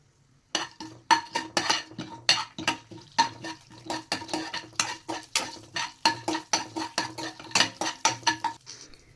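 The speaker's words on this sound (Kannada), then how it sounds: "ಈಗ ಒಂದು ಪ್ಯಾನಿಗೆ 2 ಸ್ಪೂನ್ ತುಪ್ಪ ಹಾಕಿ ಅದಕ್ಕೆ ಫಸ್ಟ್ ಡ್ರೈ ಸ್ಪೈಸಸ್ ಎಲ್ಲ ಹಾಕಬೇಕು. ಅದನ್ನೆಲ್ಲ ಹಾಕಿ ಸ್ವಲ್ಪ ಫ್ರೈ ಮಾಡಿಕೊಳ್ಬೇಕು" Dry spices frying in about two spoons of ghee in a pan, stirred with a spoon. Rapid, steady scraping and clinking runs throughout, close and fairly loud, with no one speaking.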